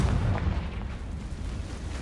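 A Confringo blast spell in Hogwarts Legacy on PS5 lands as a booming, explosive burst that hits loud at the start and then decays into a rumbling tail over about two seconds.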